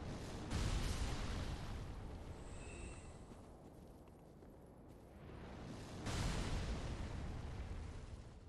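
Firebomb explosions in the video game Dark Souls III, two loud rumbling blasts several seconds apart, each with a sharp onset and long roaring decay, heard alone.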